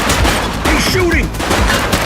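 Rapid gunfire in the police video game The Precinct, a dense crackling volley that runs steadily through the moment, with a voice briefly audible underneath.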